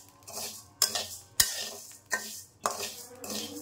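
Raw rice dry-roasting in a pan for traditional Barishal bichki is stirred with repeated scraping strokes, about five close, crisp sweeps at a steady rhythm with a soft grainy rustle between them.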